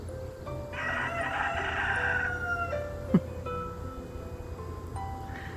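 A rooster crows once, loud and drawn out, followed by softer clucking and farmyard background noise.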